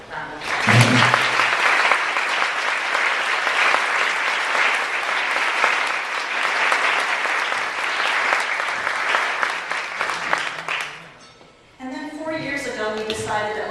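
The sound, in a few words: applause for award honorees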